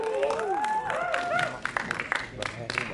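Applause from the audience at the Temurun film premiere, crowd clapping beneath a voice at first, then sharper individual claps standing out on their own.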